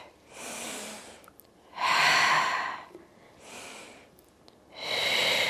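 Heavy breaths taken through a Pilates abs workout, four long rhythmic inhales and exhales near the mic, each rush of air rising and fading with no speech.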